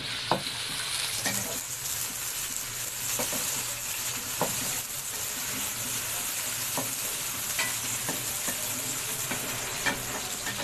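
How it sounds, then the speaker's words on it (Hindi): Onions frying in oil in a pan, a steady close sizzle with occasional scraping stirs and clinks throughout, no voices. "ऑयल के साथ प्याज।"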